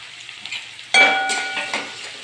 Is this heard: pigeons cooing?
no